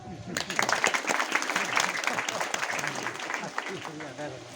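An audience at a religious discourse in a Sylhet ashram breaks into scattered clapping that swells and then fades, with a voice talking over and after it.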